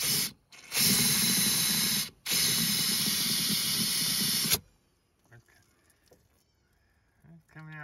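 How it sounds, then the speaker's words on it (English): Two loud, steady bursts of compressed air from an air compressor blow through a clogged fuel line on a Kubota L3301 tractor, with a brief gap between them, then stop and leave near silence with faint handling noises. "I'm gonna get the air compressor and I'm gonna blow some air up in there."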